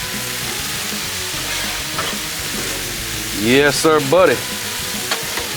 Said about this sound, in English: I'm gonna move them vegetables over in it and kind of mix the sausage all together